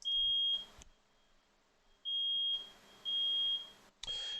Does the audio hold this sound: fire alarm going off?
yes